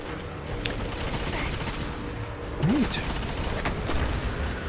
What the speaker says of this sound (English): That was quite a nice explosion.